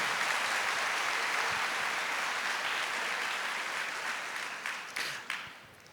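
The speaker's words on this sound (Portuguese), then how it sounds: "Pode aplaudir porque isso é graça, isso é misericórdia." A church congregation at a Catholic worship gathering applauds together in a dense, steady wash of clapping that fills the space, thinning into a few scattered final claps near the end.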